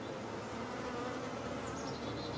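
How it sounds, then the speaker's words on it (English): Gentle honeybees drone from an opened hive in a dense, continuous buzz that stays close and fairly loud throughout. No voices are heard. "these bees are very gentle."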